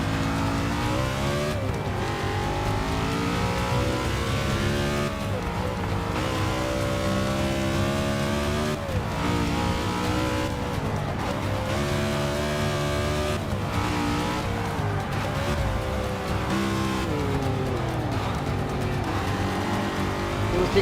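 Race cars lap a circuit in Forza Motorsport 6, engines droning and revving steadily with rising and falling pitch as gears shift, a constant close motor roar throughout.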